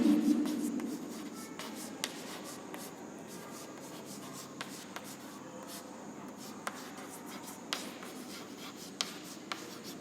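A dimensional formula is written out during a physics lesson, faint scratchy pen or chalk strokes with occasional sharp taps spread irregularly over a quiet room background.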